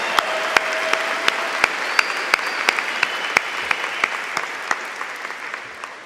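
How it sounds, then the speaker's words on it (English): Audience applause at a Poudre High School graduation ceremony for the orchestra, band and choir: a steady wash of clapping in a large hall with distinct nearby claps popping out, fading slightly toward the end. "Could we also give a round of applause for the Poudre High School Orchestra, Band, Choir, and Special Edition for their incredible performances today"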